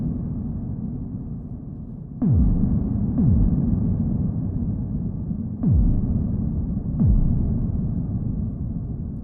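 Synthesized cinematic buildup with huge reverb: four deep downward-sweeping hits land over a steady, dense low throbbing drone, each swell booming and washing out into a long reverberant tail, with no voices.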